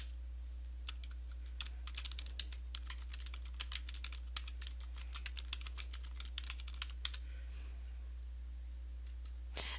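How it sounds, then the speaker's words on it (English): Steady typing on a computer keyboard, a quick run of light clicking keystrokes with short pauses, heard close over a low constant electrical hum and with no talking. "typing in the comment itself"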